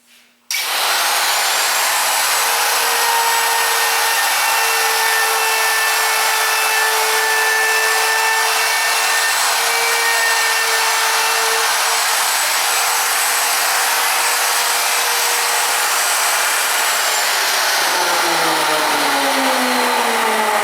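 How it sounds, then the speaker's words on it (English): A handheld wood router spins at high speed, letting out a sharp, high-pitched whine that starts abruptly, holds steady and loud for nearly twenty seconds, then winds down near the end. "A router traveling at the speed it does gives a high-pitched sound"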